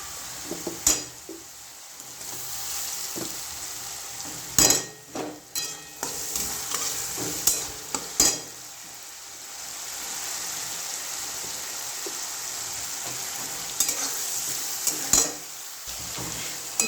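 Finely chopped tomato sizzles in a ground masala paste for radish chutney, a steady frying hiss broken by repeated stirring scrapes and clinks of a spoon against the pan.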